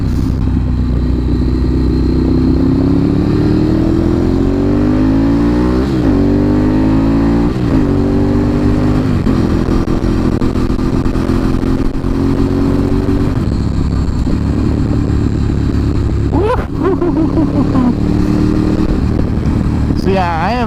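A motorcycle rides along a mountain road on a cold day, its engine droning steadily and rising and falling through several gear changes, loud and close, with a rider talking over it at times.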